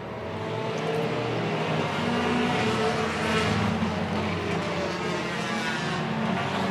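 Race cars circle an oval track at a feature race, a continuous loud roar of engines swelling and holding as the pack passes.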